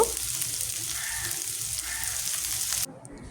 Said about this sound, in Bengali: এই ফাঁকে আমি জিরা টেলে নিব এবং পেজ ভেজে নিব